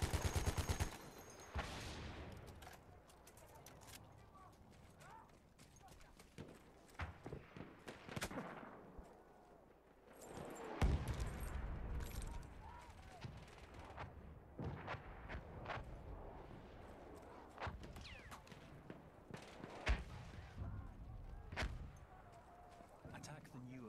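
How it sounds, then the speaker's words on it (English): Battlefield 1 combat with scattered gunshots and heavy artillery booms, sporadic loud impacts with rumbling gaps between them, some near and some distant, under occasional game voice callouts. "Enemy artillery."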